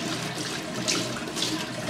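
Very warm water runs steadily into a package, a continuous broadband splashing hiss with small surges, fairly close and alone.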